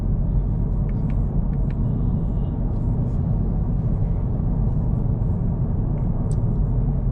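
Steady low road rumble and engine drone inside a new Honda Civic cruising on its own along the road, continuous and even with faint rattles on top.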